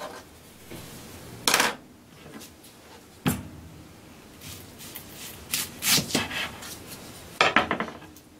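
Knife cutting onion on a board for homemade coleslaw: a few sharp, separate chops and taps against the board, spaced irregularly between quiet rubbing and scraping.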